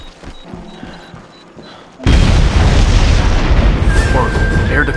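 Grenade blast in SOCOM 4: quiet background sounds, then a sudden loud, close explosion that continues as a heavy rumbling roar to the end.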